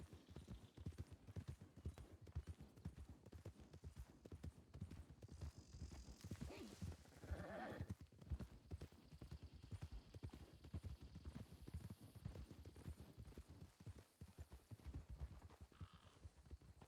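Horse hooves clip-clop steadily over ground in a Western roleplay video game set in the Old West, close and continuous for the whole stretch, with a faint whinny partway through and no talk.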